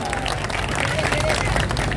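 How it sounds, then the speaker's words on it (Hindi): An audience at a Hindi poetry recital claps in a dense, continuous wash of applause, with some crowd murmur mixed in beneath it. "जब तक आपकी सारे लोगों की तालियां आएंगी मैं आगे पढ़ूंगी नहीं।"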